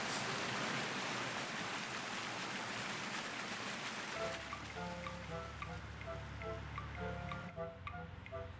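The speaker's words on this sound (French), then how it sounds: "regarder cette eau qui coule" Water flowing steadily in a garden, a continuous broadband wash that fills the first half, then gives way to a quieter trickle with faint tonal chimes and ticks.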